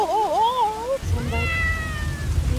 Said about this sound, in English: we have some amazing Neffy meows today